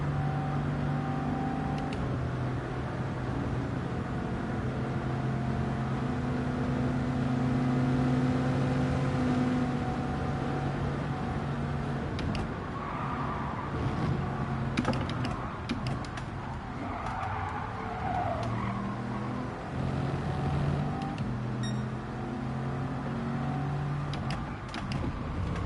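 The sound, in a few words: racing car engines in Gran Turismo 7 video game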